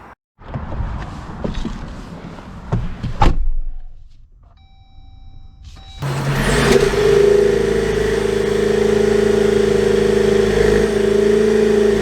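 A 2023 Jeep Wrangler Rubicon 4xe pulls away, starting after some quiet handling noises and a door-like thump, then a steady, loud engine and road drone that holds to the end.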